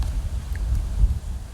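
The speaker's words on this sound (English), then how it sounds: "It's very windy today" Wind blows outdoors on a gusty day, buffeting the microphone with a low, uneven rumble that swells and dips throughout, with no speech.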